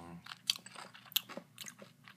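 Close, crisp crunching of Doritos tortilla chips being bitten and chewed indoors in a home studio, a quick series of dry crackles with no talking.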